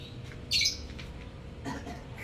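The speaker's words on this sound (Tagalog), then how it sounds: "May mayang nakapaligid. Nagtatawagan sila." Maya birds calling to one another outdoors: a sharp, loud squawking burst rings out early, followed about a second later by a softer pair of chirps, over a low background hum.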